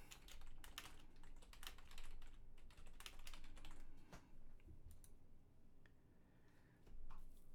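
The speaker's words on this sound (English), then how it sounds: "I'll type that in here." Keys clatter on a computer keyboard in quick, uneven runs of close, crisp taps with short pauses between bursts, no voices over them.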